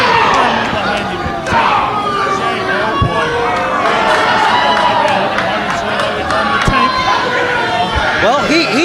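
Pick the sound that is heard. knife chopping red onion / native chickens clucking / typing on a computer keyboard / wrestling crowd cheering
wrestling crowd cheering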